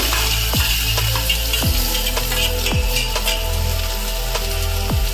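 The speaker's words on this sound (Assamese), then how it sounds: "এই মাছ ভাজা একে তেলতে এয়া জিৰা কেইটামান দিলোঁ, আৰু এয়া পিঁয়াজ দিলোঁ" Cumin seeds and onion frying in hot oil left from frying fish, a steady, close sizzle with intermittent crackles and pops throughout, no voices.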